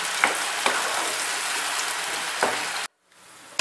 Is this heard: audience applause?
no